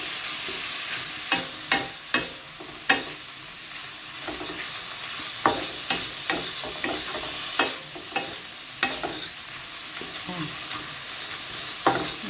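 Pork with salt and fresh chili stir-fries in a pan, a steady sizzle broken by regular sharp scrapes and clacks of a spatula stirring, close and busy, with no talking.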